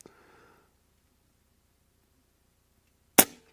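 A single sharp crack from an Air Arms S510XS .25 air rifle firing a pellet, loud and close, with a short decaying tail after a long quiet pause.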